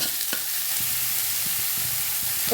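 Chopped bottle gourd and onion sizzle steadily in a pan on a village kitchen stove, with soft scraping stirs and light clinks close by; there is no talk.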